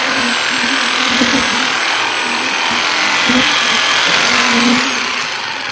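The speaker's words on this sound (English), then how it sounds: "Go with that saw one more time." A power saw cuts steadily into a house wall to reach a bee colony, a continuous loud buzzing whine with a few brief surges in pitch and load.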